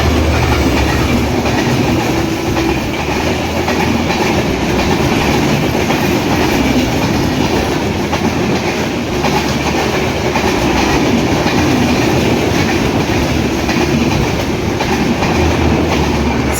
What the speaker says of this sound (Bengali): ঢাকাগামী 758 দ্রুতযান এক্সপ্রেস আজিমনগর রেলওয়ে স্টেশনের 2 নম্বর লাইন দিয়ে থ্রু পাস করে চলে যাচ্ছে ঢাকা অভিমুখে